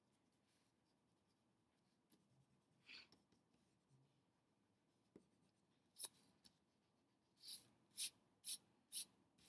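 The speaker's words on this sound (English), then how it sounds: "now I'm ready to clean up any pencil lines that I've left behind" A pencil eraser rubs over paper artwork to remove leftover pencil lines, with scattered light scratches and then a run of four or five short, brisk rubbing strokes near the end in an otherwise quiet room.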